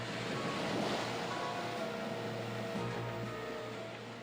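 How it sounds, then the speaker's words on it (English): Ocean waves crash against the coast in a continuous, broad roar of surf and spray, mixed with wind noise, steady throughout and slowly easing toward the end. "Waves crash against the coast with enough energy to turn over cars and destroy buildings."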